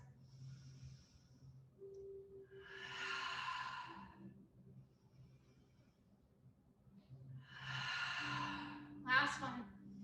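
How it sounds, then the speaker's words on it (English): Two deep, slow breaths during a yoga session, each a long airy exhale several seconds apart, close and soft, with a low background hum and a brief sharp sniff near the end. "Give you 3 full breaths"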